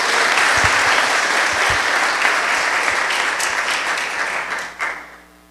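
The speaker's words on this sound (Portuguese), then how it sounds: "vamos receber o pastor com uma salva de palmas bem alegre para o Senhor Jesus" A church congregation gives warm, enthusiastic applause to welcome the pastor at a worship service, a full, sustained roar of clapping that fades out near the end.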